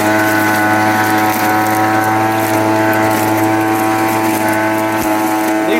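A Proyama handheld leaf blower runs continuously on wet leaves, giving a loud, close, steady motor whine and roar with no pauses.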